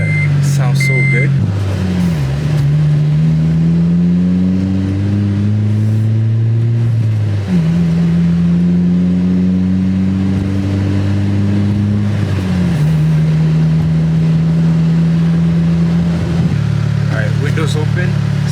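Loud, deep exhaust rumbling from a 2006-2011 Honda Civic Si with a K-Tuned turned-down muffler while driving, the engine note rising through each gear then dropping at the shifts, over steady road noise.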